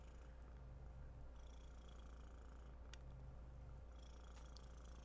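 A contented pet cat purring close up, a soft, steady low rumble continuing throughout with faint background noise and no talk.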